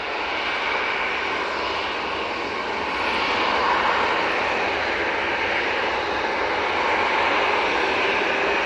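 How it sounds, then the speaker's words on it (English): Airbus A350-900 arriving from Singapore and landing at Manchester Airport, a continuous jet engine roar that swells slightly midway and stays steady, heard alone without talk. "Beautiful A350-900 coming in from Singapore"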